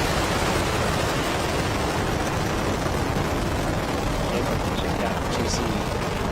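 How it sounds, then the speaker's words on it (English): Falcon 9 rocket lifting off, a dense, steady broadband roar filling the whole clip at constant loudness, like heavy rushing noise with no breaks. "Liftoff of the Falcon 9."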